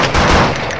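Rapid gunfire from an infinite-ammo weapon in the video game Blood and Bacon, a dense, loud burst of overlapping shots lasting under a second with no talk.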